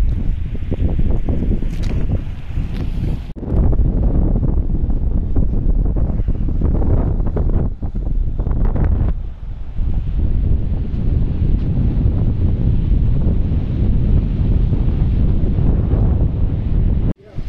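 Strong wind buffets the microphone in a steady roar, with brief gusting lulls and water sounds beneath, on the road from Sonamarg to Kargil.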